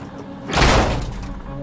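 A car door opens with a single loud thunk and rushing swell in Quantum Break gameplay, a short close burst that fades into a steady background.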